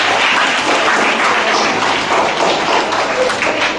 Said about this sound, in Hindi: इनको भी तालियों से स्वागत किया जाए।